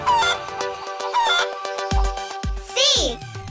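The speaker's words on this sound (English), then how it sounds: "Chicken." A chicken clucks briefly in short bursts among cheerful music, with a voice heard speaking.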